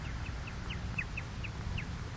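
Little bird chirping as a radio drama sound effect, a string of short, bright chirps repeating every fraction of a second over a steady low hum, with no talking.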